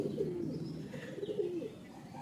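Pigeons coo softly in low, rolling murmurs inside a loft, a couple of warbling calls rising over a steady close background hum.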